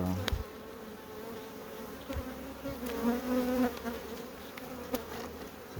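Honeybees buzzing close by while honey supers are inspected, a steady insect drone with a few louder passes of individual bees, alone without speech.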